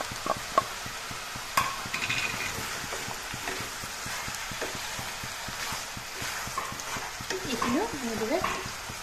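Ginger garlic paste frying for chicken curry, a steady close sizzle with scraping stir strokes and occasional clinks throughout, and a voice talking lightly over it.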